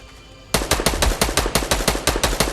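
Rapid, loud video game gunfire in a fast repeating burst, about a dozen sharp shots in a row after a brief quiet start.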